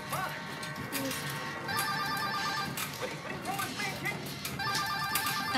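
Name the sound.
telephone ringing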